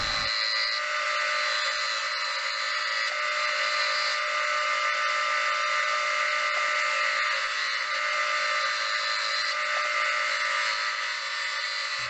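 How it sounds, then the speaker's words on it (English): A wood lathe turns a wooden block into a cylinder and shapes its outside with a gouge, giving a steady, loud whirring hiss with a constant tone and no pauses, and no talking. "first I take the block of wood and turn it into a cylinder, and then start shaping the outside"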